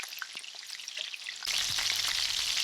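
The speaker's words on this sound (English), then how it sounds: "Cook it or fry it as brown as you like." Shrimp wonton sticks fry in hot oil with a crackling, popping sizzle that jumps suddenly louder and denser about halfway through, as if more pieces hit the oil.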